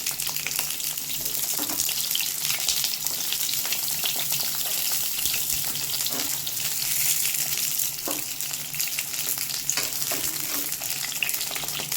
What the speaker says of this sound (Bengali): এখানে পটলগুলো একটু একটু লাল লাল করে ভেজে নেবো বন্ধুরা